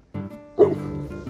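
A Great Pyrenees gives two short, close vocal bursts, a bark followed by a higher whining yelp, in a quiet setting.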